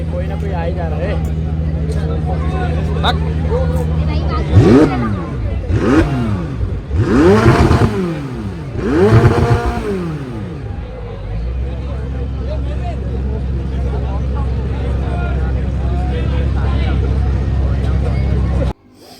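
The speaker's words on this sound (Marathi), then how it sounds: "हे कार वगैरे ना चालू करून दाखवत होते" At an outdoor Thane auto show of vintage and super cars, engines are started and revved in a run of four rising-and-falling roars over a steady idle, with crowd chatter throughout.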